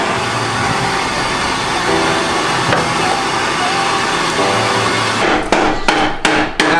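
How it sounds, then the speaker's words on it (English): Hammer blows pop an axle out of a Honda Civic during a manual transmission swap, with steady workshop noise, then a quick cluster of sharp, loud metallic strikes near the end, up close. "I'm not a fan of popping axles out."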